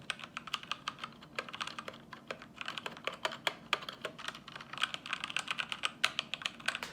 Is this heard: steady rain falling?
no